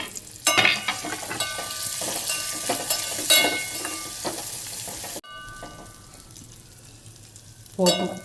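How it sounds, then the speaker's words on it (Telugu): Tempering spices for vankaya pulusu, including fenugreek powder and asafoetida, sizzle and crackle steadily in hot oil up close, a loud bubbling fry that cuts out abruptly partway, leaving quiet before a brief clatter. "పోపు వేగింది చూడండి, పోపు అంతా వేగిపోయింది."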